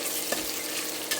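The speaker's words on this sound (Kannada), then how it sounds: "ಈಗ ಇದಕ್ಕೆ ಆನಿಯನ್ ಹಾಕ್ಕೊಳ್ಳೋಣ. Onion full ಹಾಕ್ಕೊಂಬಿಡೋಣ. ಈಗ ಇದನ್ನು ಹುರ್ಕೋಬೇಕು" Chopped onions fry in hot oil with a steady, dense sizzle, close and continuous, broken by a couple of faint clinks of a stirring spoon.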